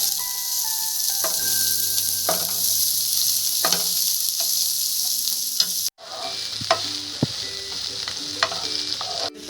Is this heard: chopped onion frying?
yes